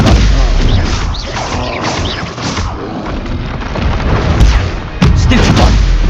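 Spell blasts and booming impacts from a fight with a troll in the video game Hogwarts Legacy, including the Stupefy spell, loud and dense with repeated crashes and thuds, and a sharp burst near the end.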